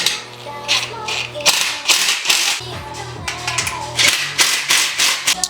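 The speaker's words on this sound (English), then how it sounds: "I think I am going to use 17mm socket." Ratchet fitted with a 17mm socket turning bolts while assembling an HVO bicep/tricep curl machine: fast, close clicking in repeated bursts with short pauses between strokes.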